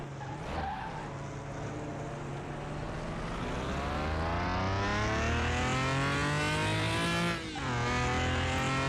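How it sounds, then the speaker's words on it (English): A Lamborghini engine in the Car Mechanic Simulator 2021 video game runs hard and steadily climbs in pitch, with a brief dip near the end. The rough, strained note is loud and continuous, with tire skidding mixed in. "I hate the sound that this engine is making. It sounds awful."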